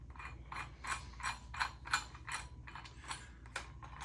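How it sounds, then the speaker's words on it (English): A 10-pound weight is screwed onto an arm wrestling handle, giving a faint, steady series of close metallic ratcheting clicks at roughly even intervals. "We're gonna start off with 10 pounds. This is the initial start, and we're gonna screw it on."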